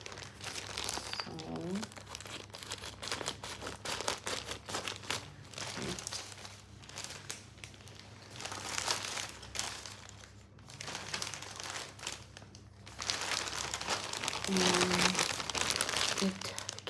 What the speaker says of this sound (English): So I'm going to cut it out the package.